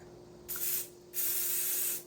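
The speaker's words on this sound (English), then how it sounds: "I'm going to use the canola oil spray and spray this chicken." Canola oil spray hisses onto raw chicken in two bursts, a short spritz followed by a longer steady spray, close and fairly soft.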